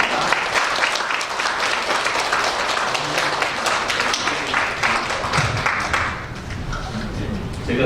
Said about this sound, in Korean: 우리 선교사님 나오실 때 큰 박수로 환영하도록 하겠습니다